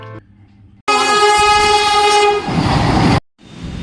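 The Jagannath Express running from Puri to Shalimar sounds a loud, sustained horn close by over heavy rumbling, which then gives way to steady wheel and carriage noise.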